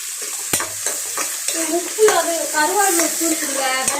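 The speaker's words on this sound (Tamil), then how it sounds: "ஓ சரி சரி சரி, இது நல்லா வதங்கட்டும்" Spices and coriander seeds are sautéed in a home kitchen pan for a Madurai-style masala: a steady sizzle with scraping stirs and light clatter, while voices talk quietly over the frying.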